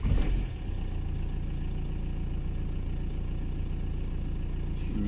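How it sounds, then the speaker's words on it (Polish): A 1.9 TDI diesel engine in a VW Sharan cold-starts after a starter motor repair: a brief loud cranking burst, then a steady, even idle rumble that continues alone to the end. "I tak autko zapala po wyremontowanym rozruszniku."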